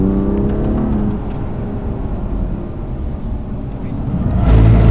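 A 2021 BMW M2 Competition engine, six-speed manual, droning and then rising as it accelerates on a performance driving course, loud and close, with talk mixed in.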